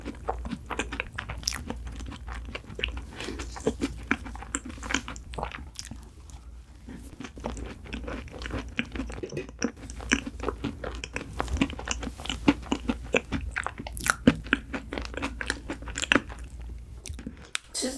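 Cheese tart bitten and chewed right at the mouth: dense, continuous crunchy and wet mastication sounds, rhythmic and loud, with no talking.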